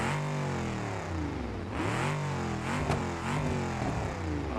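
In BeamNG.drive, a 318 engine revs hard toward 6,000 rpm, its loud, close engine note rising and falling through several sweeping pulls with no talking.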